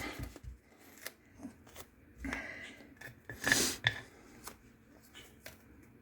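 Scissors snip through template material for a 3D decal in short, close, crisp cuts with small pauses and faint handling rustle between them.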